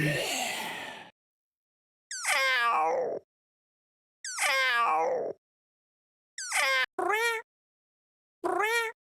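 A man mimics a dying Minecraft cat with a breathy gasp followed by a series of sharp, pitched meow-like cries, each brief and separated by silence.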